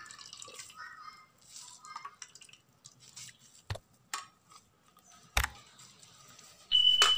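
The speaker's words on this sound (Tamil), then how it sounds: "இந்த தண்ணீரெல்லாம் பிழிஞ்சிக்கலாம்" Faint drips and small squishy splashes of water pressed out of grated tapioca, scattered irregularly in a quiet kitchen, with a couple of sharper louder taps near the end.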